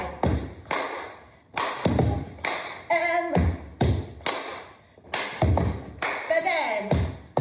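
Rhythmic hand claps in a call-and-response drill, sharp claps falling in a repeating pattern of singles and doubles while an instructor calls out the beats between them.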